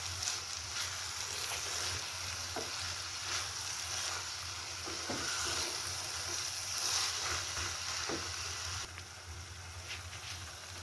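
Grated carrot halwa with milk, dried milk powder and dry fruits roasting in a pan, giving a steady sizzle with occasional scraping stir strokes, close and alone with no voice.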